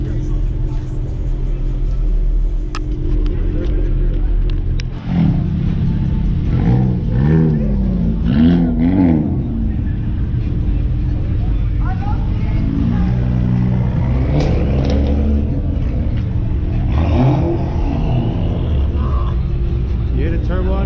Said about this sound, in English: You hear the turbo on that thing?